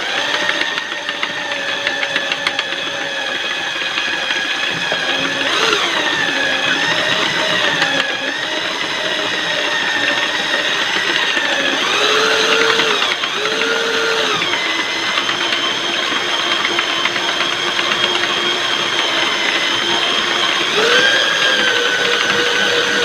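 Electric drill powering a Sentro-style hand knitting machine working fuchsia and thick yarn: a steady, loud mechanical whirring and ratcheting that runs throughout, with the pitch dipping and rising as the drill speed changes. No talk.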